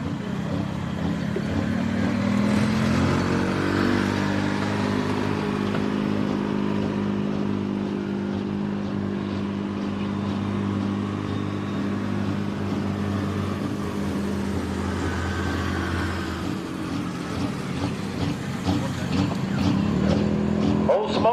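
A 5.9 Cummins six-cylinder diesel pulling tractor sits deep and low, then revs up and holds a heavy droning roar at a tractor pull in Orange, Virginia, with crowd and announcer voices mixed in.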